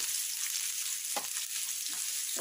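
Chopped onions sizzle in hot oil in a pan for a curry: a steady bright hiss, broken by a few brief stirring scrapes, with no talking.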